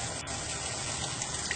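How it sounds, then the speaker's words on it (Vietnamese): Water runs steadily from a tap onto pork intestines being washed in a kitchen, a close, even splashing gush with no voices over it. "Đây mình sẽ cho nước vào."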